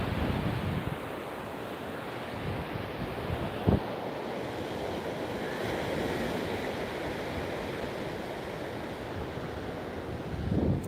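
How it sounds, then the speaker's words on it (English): Ocean waves rolling in against a pier, a steady broad wash of surf with wind noise buffeting the microphone throughout, with a couple of louder surges near the start and end. "these waves rolling in here stir up a lot of healthy nutrients from the ocean."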